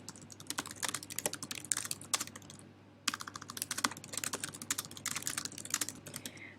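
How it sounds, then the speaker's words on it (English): Fingers type on a computer keyboard, quick close clicking keystrokes in uneven bursts with a brief pause near three seconds before the tapping resumes, alone over a faint low hum. "You can type in the question here."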